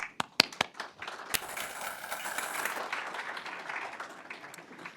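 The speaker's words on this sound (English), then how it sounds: "let's give another big round of applause for his students" An audience at a summit applauds a group of students, starting with a few sharp, separate claps that swell into sustained, dense clapping and then gradually thin out.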